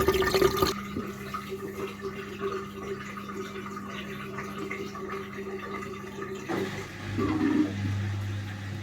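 An Indesit washing machine's drain pump emptying water during a rapid rinse program: a continuous gushing, gurgling water rush with a steady pump hum, shifting to a deeper droning tone near the end.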